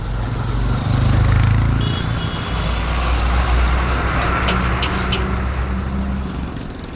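A traffic jam on a road in Pune, Maharashtra, with cars and buses produces a loud, steady engine rumble and drone close by, with only faint voices.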